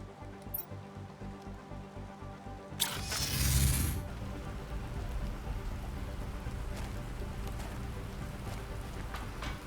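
Steady rain patters on a surface, with a brief louder burst of noise early on, then a constant soft hiss.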